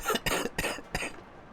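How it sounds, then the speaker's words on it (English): Four sharp coughs in quick succession, close and fairly loud, from a man's throat, then a faint trailing breath. "I start coughing anyway."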